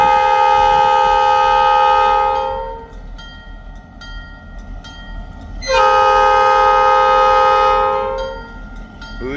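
Train horn salute from a locomotive, two long loud chords lasting a few seconds each with a quiet rumble between, sounding close and alone.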